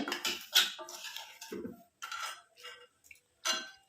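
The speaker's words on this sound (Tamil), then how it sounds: "இந்த மாதிரி ஒரு பவுல் எடுத்துக்கிட்டு இதில் வந்து கொஞ்சம் கொஞ்சமாக நம்ம போட்டு எல்லாத்தையும் வடிகட்டி எடுக்கணும்" Herbal hair-oil juice strained bit by bit through a strainer into a bowl, with intermittent metallic clinks and scrapes of utensil against bowl in short bursts and pauses, no voices.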